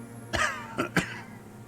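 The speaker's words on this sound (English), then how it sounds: "He coughs once more, then puts a hand on his belly." A man in the video game Disco Elysium, Mr. Dross, in poor health, coughs a few times: one rough cough followed by two shorter, sharper ones, close and fairly quiet over a faint low background hum.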